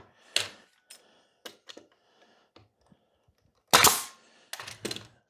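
A staple gun fires 1.5 inch staples into wood, two sharp snapping shots a few seconds apart amid lighter clicks and taps of handling.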